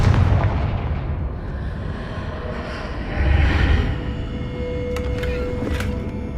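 A Confringo fire spell from Hogwarts Legacy bursts in a loud, rumbling blast, with a second swell of booming explosion midway and a few sharp crackles near the end, all without talk.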